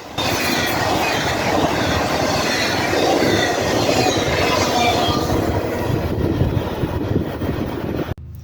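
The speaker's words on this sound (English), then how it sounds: "Next up is an eastbound Arterac train." An eastbound train rumbles steadily past up close, loud and continuous, with wheels clattering and faint squeals before it fades slightly at the end.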